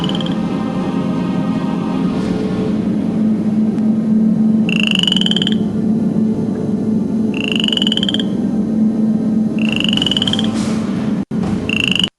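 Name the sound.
frogs croaking sound effect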